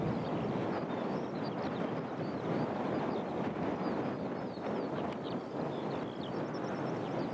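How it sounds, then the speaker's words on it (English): Steady wind blows across clifftops near Peacehaven and Saltdean, a continuous close roar and buffeting rumble with no pauses, no voices over it. "It's still quite breezy up here on the cliffs, as you may be able to hear."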